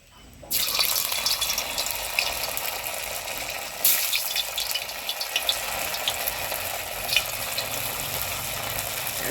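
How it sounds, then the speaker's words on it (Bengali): Torn pieces of flour dough dropped into hot oil for a curry dish, setting off a loud, steady sizzle from half a second in, dotted with sharp crackles and pops, with no talking. "এবার এটাকে একটু একটু ছিঁড়ে ছিঁড়ে এই তেলে দিয়ে দেবো।"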